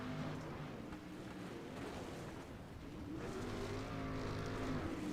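Race cars roar around a dirt track in the opening heat race on the final lap, a steady, loud blend of engine drone and revving that swells toward the end.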